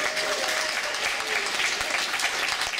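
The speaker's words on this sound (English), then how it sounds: "Brad Simmons, give him a round of applause." An audience at a City of Heroes player summit workshop in 2012 claps together, a brief steady burst of applause heard from within the room with no talking over it.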